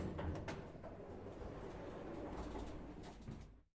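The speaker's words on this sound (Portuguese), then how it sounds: "A porta se abre." An elevator door slides open with a soft, continuous rumbling swish that runs for several seconds at low level, fading out at the end.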